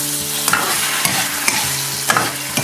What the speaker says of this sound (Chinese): 然后呢迅速的把它们翻炒在一起。